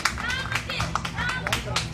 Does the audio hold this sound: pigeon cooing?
no